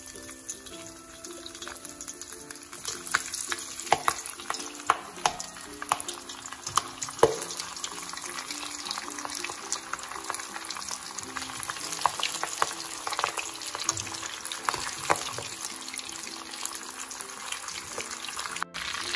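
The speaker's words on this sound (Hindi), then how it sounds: "अब हम ड्रम स्टिक्स को फ्राई करना शुरू करते हैं" Chicken drumsticks coated in egg and breadcrumbs deep frying in hot oil, a steady bubbling sizzle with crackles and pops throughout, close and continuous without talk.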